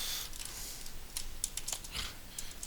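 Someone types quickly on a computer keyboard, producing short clusters of crisp key clicks close up against faint background hiss.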